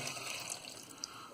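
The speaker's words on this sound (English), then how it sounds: "So I'm going to put some water in now." About 300 ml of water pours steadily into a bowl holding yeast and sugar, a soft, continuous trickling splash that is fairly quiet and close, with no talking.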